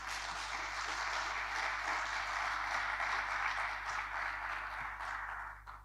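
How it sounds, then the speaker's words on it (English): Sustained applause from a conference audience at an African football agents gathering, a dense steady wash of many hands clapping for nearly six seconds before tapering at the end, with a constant low hum underneath. "give her a beautiful round of applause"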